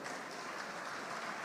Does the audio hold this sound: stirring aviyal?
no